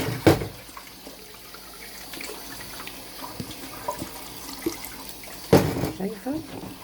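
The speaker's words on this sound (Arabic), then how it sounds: "نجيب له شويه ميه اغطي بيهم." Water is poured into a jar of cucumber pickles, a running liquid splash that comes and goes in bursts, with someone talking over it at close range.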